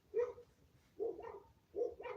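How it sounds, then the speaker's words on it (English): A dog barks three times at a distance, evenly spaced, each bark short and sharp with a little trailing yip, no talking in between. "Is that what the dog fucking barking about?"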